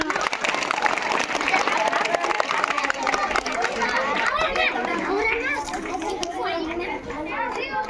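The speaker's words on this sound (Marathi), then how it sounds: "अरे बसून टाळ्या वाजवा ना" Schoolchildren at a government residential school game, murmura khel, fill the space with dense, continuous noisy chatter and shouting, with bursts of clapping woven in throughout; the crowd stays loud and close the whole time.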